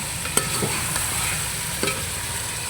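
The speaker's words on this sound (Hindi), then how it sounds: "हमारा चिकन भी माशाल्लाह से फ्राई होगा" Chicken frying in a pan with garlic-ginger paste, a steady close sizzle with a few sharp spatula scrapes and taps as it is stirred, no talking.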